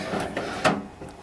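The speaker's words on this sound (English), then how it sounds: "And this is my paint gun drawer" A drawer in a workshop toolbox slides open or shut, a single rolling-and-knock movement at close range with faint room noise around it and no talk.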